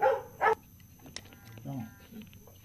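A police dog at a crime scene gives two sharp, close barks right at the start, followed by quieter scattered sounds and low murmurs.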